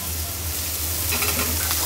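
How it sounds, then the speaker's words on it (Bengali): Potatoes frying in mustard oil in a slippery frying pan make a steady, loud sizzle with occasional stirring scrapes, heard alone without talk. "এই তেলেই এই আলুটাকেও ভেজে নিতে হবে।"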